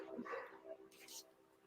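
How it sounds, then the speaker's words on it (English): Two big dogs, a pit bull boxer mix and a Labrador, bark in a couple of short bursts at a distance, faint and indoors, with a voice in the background. "my dogs are going so crazy"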